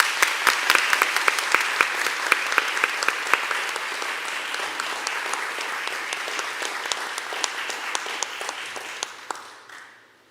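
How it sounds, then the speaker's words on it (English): An audience at a county board of supervisors business meeting gives a round of applause, steady and close, with sharp individual claps standing out. It carries on for about ten seconds and then stops abruptly. "Please give us a round of applause."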